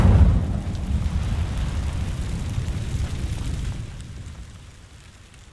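A burst of magical fire from an Incendio spell in Hogwarts Legacy sets dry vines alight, a loud low boom at the start that rolls into a steady roaring rumble and slowly fades away.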